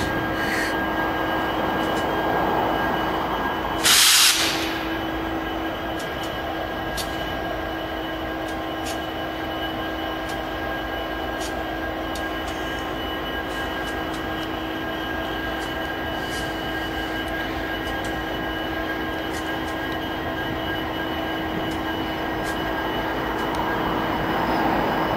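BNSF diesel locomotives idle in the Nampa rail yard, including an ex-Santa Fe patch unit, an SD60M and an SD90/43MAC, giving a steady, loud engine drone with a constant tonal hum throughout and a brief sharp burst near the start.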